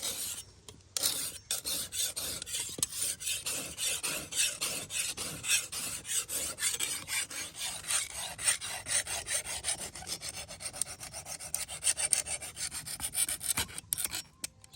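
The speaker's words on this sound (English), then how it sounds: "You're gonna sharpen the machete to make it easier to cut the banana trunk in" A small machete is being sharpened with a hand sharpener, a close, dry rasping scrape repeated in quick back-and-forth strokes that carries on steadily almost the whole time.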